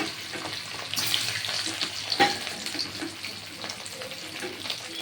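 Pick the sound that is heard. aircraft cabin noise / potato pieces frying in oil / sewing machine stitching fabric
potato pieces frying in oil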